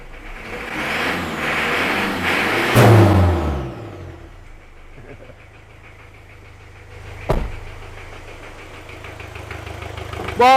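Turbocharged Ford Ranger engine running after timing belt and fuel pump work, a rough close idle that rises in a rev, settles into a steady low drone, with a few sharp knocks and clanks.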